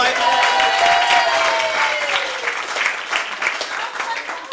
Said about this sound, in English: Can we have a round of applause for my son?